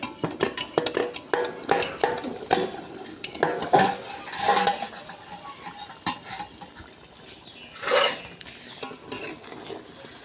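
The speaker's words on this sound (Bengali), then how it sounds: "চাপা তুলে দেখে নেব।" Metal utensil clinks and scrapes against a pan while yogurt-marinated chicken is stirred after the pot lid is lifted, with a louder clatter near the end; no speech.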